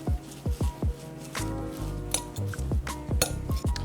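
Napa cabbage salad with mint, cilantro, green onion and dressing is tossed in a bowl, close up, with quick rhythmic utensil clinks against the bowl and soft wet squishes between them.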